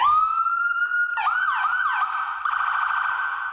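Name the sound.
Whale siren tone from a police siren speaker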